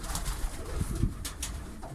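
Soft cooing from a tall, long-legged pigeon in a couple of low murmuring bursts, fairly close, over a steady background hiss with faint rustling.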